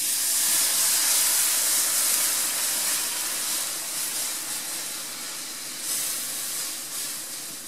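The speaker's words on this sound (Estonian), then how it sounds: "ja nüüd ma kallan peale selle kanapuljongi siia" Chicken broth poured into a hot pan of creamy chicken fillet and mushroom sauce, giving a loud, sustained steamy hiss that slowly eases over several seconds, with no talk.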